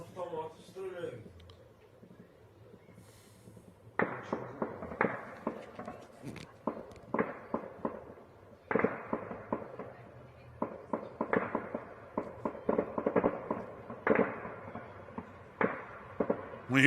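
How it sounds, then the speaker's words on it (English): Sporadic small arms air defense fire against drones near an air base; after a quieter opening, irregular bursts of sharp cracks and pops come in clusters at moderate distance, with faint voices underneath. "We hear continued air defense fire. It's fairly sporadic. And once again, entirely small arms base."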